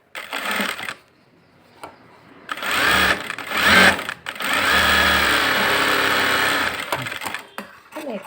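A sewing machine stitches a blouse in several bursts of rapid mechanical clatter, the longest run steady for a couple of seconds, with brief pauses and handling noises between them.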